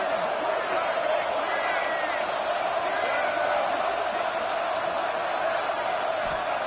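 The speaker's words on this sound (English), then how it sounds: "Crowd getting this defense whipped up on 3rd down." Football stadium crowd at a college game, roaring steadily to fire up the defense on third down, a dense continuous cheer heard from within the stands.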